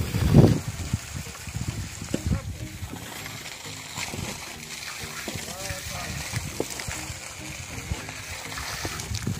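Water gushes at pressure from a tap in a newly built house, a steady splashing rush that runs throughout, close and moderately loud, with brief faint voice sounds in the background.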